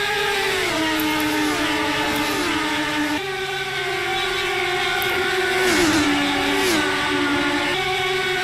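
Race cars battling three wide on track during Carb Day, a loud, sustained engine drone with shifting pitches from several cars rising and dropping together, no voices.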